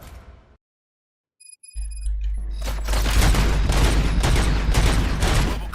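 Gunfire in the video game RoboCop: Rogue City, a brief silence, then a sustained loud barrage of overlapping shots and booms over a heavy low rumble.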